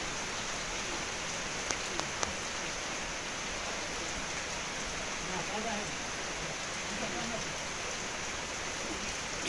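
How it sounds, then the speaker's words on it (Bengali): Heavy rain pours steadily in the Andaman Islands as a dense, continuous hiss that fills the whole stretch, with a few faint clicks and no clear speech over it. "বসে বসে এখন বৃষ্টি দেখছি"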